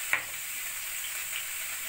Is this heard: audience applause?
no